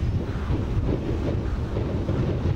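Strong wind blows in the 1998 Teletubbies episode Land Yachting, a steady loud rushing roar that buffets the microphone without letup and has no voices over it.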